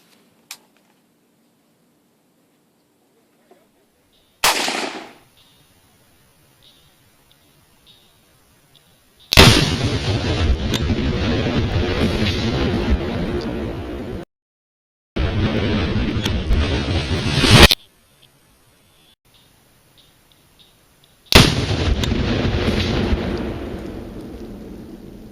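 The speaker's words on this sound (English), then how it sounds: "We're gonna do propane tank versus AR-15." Several loud, sustained blasts from a DPMS AR-15 rifle firing at a propane tank outdoors, each burst roaring for a few seconds with hissing tails, separated by short quiet gaps.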